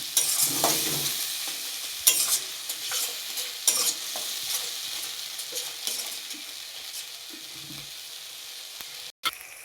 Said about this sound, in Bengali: মশলাটা কষানো হোক